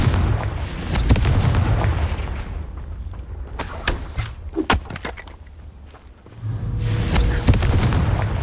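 Confringo fire spell explosions blast in Hogwarts Legacy, a series of loud booms and sharp cracks over a steady rumbling roar, falling back briefly before a dense burst of blasts near the end.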